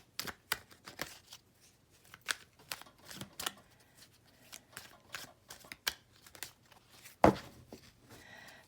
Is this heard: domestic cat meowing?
no